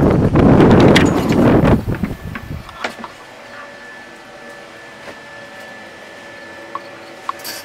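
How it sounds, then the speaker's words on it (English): Wind at around ten miles per hour buffets the microphone in a loud roaring gust for the first few seconds, then eases to a quieter background hiss with faint scattered ticks. "10 mile an hour wind."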